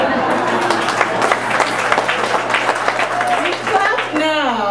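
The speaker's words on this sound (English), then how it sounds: "Clap now." Audience clapping and cheering at a stand-up comedy show: a dense, steady wash of applause fills the room throughout, with a voice talking over it and a rising vocal sound near the end.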